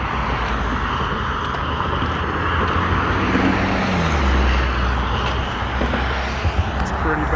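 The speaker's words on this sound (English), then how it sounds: "A lot of traffic on this little road." Road traffic on a small rural road: a continuous loud rumble of passing vehicles, close by, with engine noise swelling and fading as cars go past.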